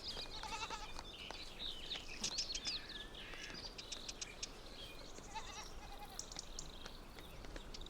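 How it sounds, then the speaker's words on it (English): Spanish ibex bleat in rutting season in the mountains, with repeated nasal calls at moderate distance, mixed with faint bird chirps over a quiet outdoor background. "The Spanish ibex are in the rut."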